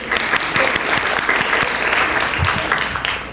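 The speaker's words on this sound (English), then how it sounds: "You can clap for her, I'm sorry." An audience at an art award ceremony gives a dense round of applause for a prize winner, with individual claps popping out of the steady wash throughout.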